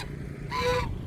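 A single goose honk, a harsh nasal call lasting about a third of a second, rises over a low rumbling background hum.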